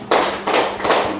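Hand claps in a children's counting clap game in a classroom: three sharp, loud claps spaced evenly about a third of a second apart, with no voices between them.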